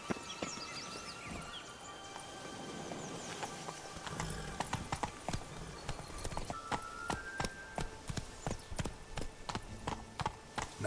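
Geralt's horse Roach from The Witcher 3: Blood and Wine, its hooves clip-clopping at speed in a steady, close rhythm of sharp strikes over outdoor ambience, with a few clattering accents and no speech.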